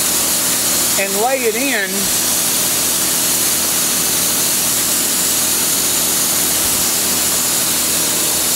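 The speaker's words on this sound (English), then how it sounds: "I'm going to show you now how I go in there and grind that out" A grinder runs with a steady, loud whine while grinding out an iron valve seat in the intake port of a 6.0 cylinder head, continuous throughout, with a brief spoken phrase near the start.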